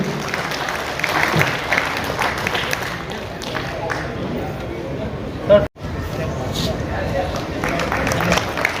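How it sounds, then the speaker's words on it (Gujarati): Audience applause at a charity show for food service and poor patients, steady clapping and crowd noise filling the hall with a host's voice over it, briefly cut near the end. "બધા માટે જોરદાર તાળીનો ગડગડાટ આપણે કરીએ"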